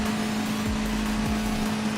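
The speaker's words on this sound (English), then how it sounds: "I haven't heard this engine sound very often in this game." A steady, loud Lamborghini engine drone in the racing game Asphalt with a fixed pitch, punctuated by a couple of quick downward pitch drops like gear shifts.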